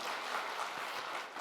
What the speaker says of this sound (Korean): 우리 큰 박수로 하나님 앞에 영광 돌리겠습니다